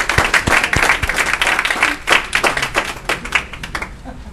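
A round of applause at a NoMi council meeting: individual claps ring out distinctly at first, then build into a brisk, uneven patter from a modest audience before thinning out.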